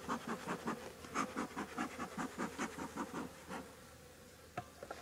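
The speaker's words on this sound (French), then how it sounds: "je secoue déjà les abeilles" Honeybees buzzing around a beekeeper as they are shaken off hive frames in cool weather, a close, pulsing drone in rapid rhythmic bursts that fades out near the end, followed by a couple of brief knocks.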